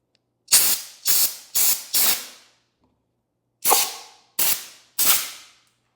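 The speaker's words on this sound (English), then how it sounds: "I use compressed air, push it right in through here, and this will push the whole thing off of the bike" Compressed air blasting a grip off a 2025 Ducati Panigale V4 handlebar: seven sharp, loud hissing bursts close by, four in quick succession, a pause, then three more.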